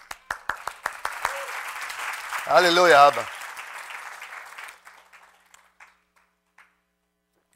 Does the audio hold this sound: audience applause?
yes